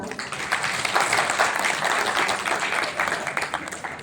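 An audience applauds at an event held in a hotel in Varanasi, a few seconds of dense, fairly loud clapping from many hands that holds steady and then tails off.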